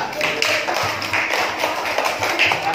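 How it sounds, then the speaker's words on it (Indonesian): A classroom group claps for a student named Kezia, a steady patter of hand claps lasting the whole moment, close and fairly loud, with a voice heard over it. "Kezia, tepuk tangan untuk Kezia."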